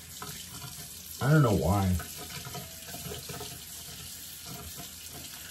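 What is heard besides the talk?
water running from tap while brushing teeth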